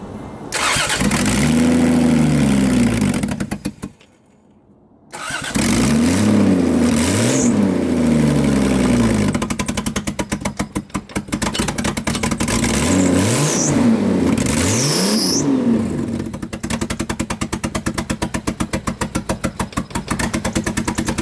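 A turbocharged Toyota Cressida MX73 with a 5M engine cranks and catches, falls briefly silent, then fires again and revs in repeated rising and falling sweeps before settling into a rough, loud idle.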